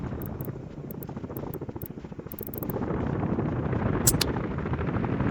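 A helicopter in the city-building game Workers & Resources gives a steady, dense rotor chop with a whooshing drone that holds throughout and grows slightly louder midway.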